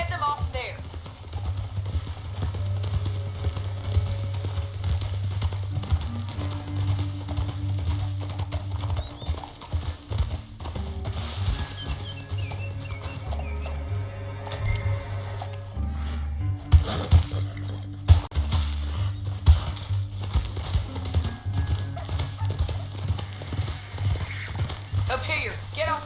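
Rapid clip-clop of hooves from a galloping horse in the video game Red Dead Redemption 2, steady and close, with a constant low rumble beneath and occasional voices speaking over it.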